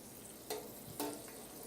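Food batch-frying in vegetable oil, a steady low bubbling sizzle with two brief clinks or splashes close by.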